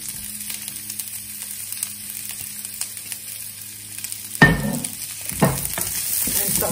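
Garlic, ginger and onion are sautéed and stirred in a hot pan with spluttering seeds for spinach with paneer, a soft steady sizzle that swells with louder frying bursts partway through, with no talking.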